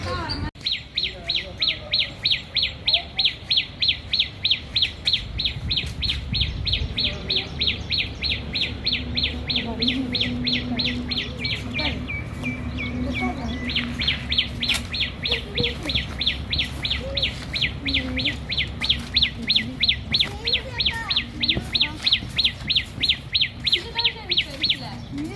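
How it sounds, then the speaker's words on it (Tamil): A small sparrow whistles its song outdoors, long trains of rapid, evenly spaced high chirps repeating throughout with a short break midway, loud and close, over low background hum and faint voices. "சின்ன குருவி என்னமா விசில் அடிக்குது"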